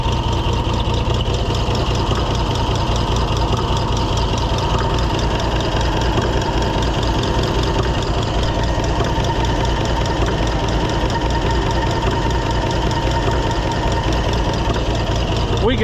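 An idling 1650 engine with a valve-cover problem runs steadily and close, a low rumbling idle with an occasional intermittent thunk mixed in.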